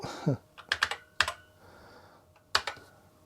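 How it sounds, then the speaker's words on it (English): Keys clack on the clicky keyboard of an Acorn Electron computer, with a few separate bursts of typing and a short gap between them, each click trailed by a faint ringing echo. "it's a very clicky keyboard, and it has this ding after you click the keys, like an echo"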